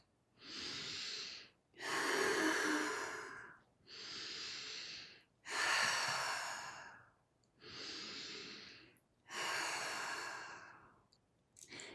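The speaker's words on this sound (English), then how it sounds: "we use something called conscious connected breathing." Conscious connected breathing, with six long, loud breaths close to the mic alternating full inhales and full exhales with no pause between them, the rush of air rising and falling in a steady rhythm.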